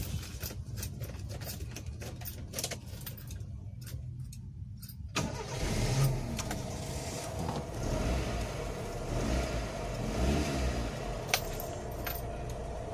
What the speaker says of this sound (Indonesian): Mesin di sini belum ada peredam dan belum ada peredam sama sekali. Tapi suara mesinnya sih lumayan ya.